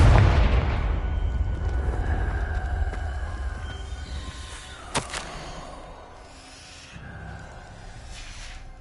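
A Confringo explosion spell in Hogwarts Legacy rolls out as a deep, booming rumble, with a sharp crack in the middle and a slow fade before a final small burst.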